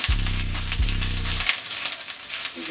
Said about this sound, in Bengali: মশলাটাকে ভেজে নিই, তারপর ডালটা দিই।